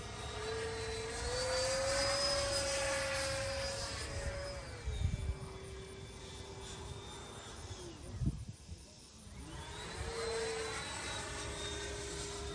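A Freewing F-86 Sabre RC jet with an 80mm electric ducted fan whines overhead with a high, steady fan tone that shifts pitch as it passes by and circles back, loud and sustained.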